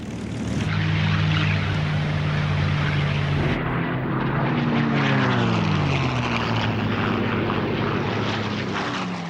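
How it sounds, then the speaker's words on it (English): WWII fighter plane propeller engines roar loudly and continuously, with a droning tone that shifts pitch midway as an aircraft passes overhead, no voices over the noise. "450 fighters were scrambled to intercept the Japanese planes"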